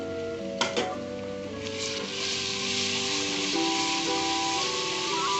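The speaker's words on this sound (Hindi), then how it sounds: "अब हम इसमें 4 से 5 अदद लाल मिर्चें खुश्क और उसमें 1 चम्मच भरकर अदरक लहसुन का पेस्ट डालेंगे।" Dried red chillies and ginger garlic paste sizzle in hot oil with a steady loud hiss, opening with a couple of sharp spits as they hit the pan, while faint tonal background music plays underneath.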